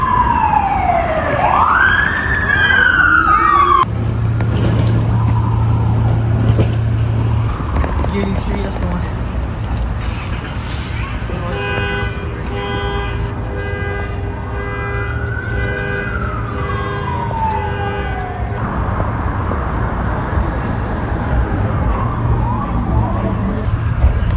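Several police cars pass in a US neighbourhood with sirens wailing and sweeping up and down, rising and fading as they go by, loud over steady street noise and some talk.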